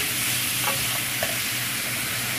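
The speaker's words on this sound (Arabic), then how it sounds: "ادي الشريمب اهو، نقلبها كده دقيقة لحد ما تلاقي لونه اتغير" Shrimp sizzle steadily in a hot pan, a dense, even crackle of frying with faint stirring scrapes, close and constant with no talking over it.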